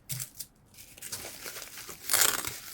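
Adhesive tape being torn off packaging from a 1990s game console and cartridges, close crinkling and tearing with a few short rips and a louder, sharper tear near the end.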